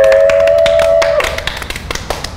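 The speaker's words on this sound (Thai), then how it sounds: "ขอเสียงปรบมือให้กับคนที่เรากำลังพูดถึงด้วยค่ะ" Scattered hand claps from a small group, a brief ragged burst of applause starting after a sustained tone fades, close and fairly loud.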